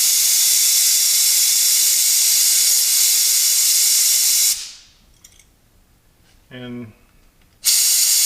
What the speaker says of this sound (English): I just spray it right inside, and then I hit it with the air compressor.